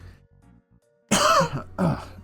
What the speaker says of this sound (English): Oh god, I got a cough and I don't want this to be loud.